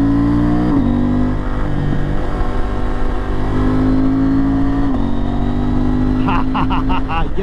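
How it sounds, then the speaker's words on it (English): A KTM 890 Adventure R Rally motorcycle on knobby tires runs at high revs, stepping down through sharp downshifts with quick blips, loud and close, while crackling pops sound near the end. "Listen to the downshifts."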